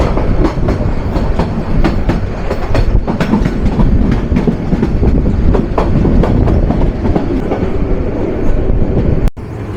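A Turna Express passenger train rumbles through Laksham railway junction in Comilla at night, with steady loud wheel noise and rhythmic clickety-clack over rail joints throughout, close and continuous.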